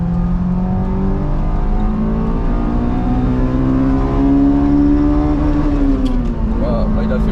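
A Honda S2000 Phase 2 engine revs hard and steadily, its pitch climbing and holding at the rev limiter before easing off, loud, close and continuous.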